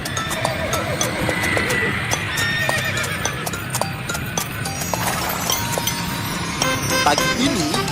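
A horse pulling a delman carriage neighs, and its hooves clip-clop in a steady rhythm, close and clear against faint traffic, with brief voices in the background.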